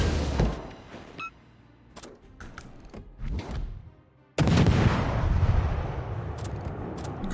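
Warship guns fire AP shells in World of Warships: a few scattered distant booms, then a loud, sustained roar of heavy gunfire that begins abruptly partway through and continues to the end.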